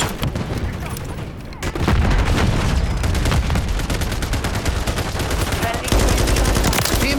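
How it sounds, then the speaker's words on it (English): Rapid automatic gunfire from the video game Modern Warfare 3, loud and sustained with dense bursts of shots and brief pauses, the pace picking up again near the end. "You are shooting behind my fucking head like that."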